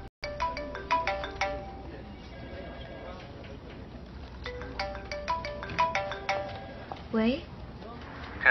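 A mobile phone ringtone plays a short bright melodic phrase that repeats, loud and close, with a brief voice-like sound near the end, announcing an incoming call.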